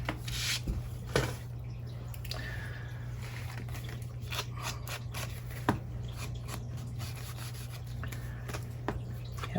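Scissors cut through paper from a junk envelope during a craft project, giving close, repeated crisp snips and rustling with a few sharper clicks, and no one speaks.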